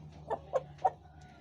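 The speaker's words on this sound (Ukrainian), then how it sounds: "півника принесли. Він вже знайомиться з курочками" Three short, evenly spaced clucks from a rooster newly placed among hens, close by, over a quiet low hum, followed by a faint fourth sound.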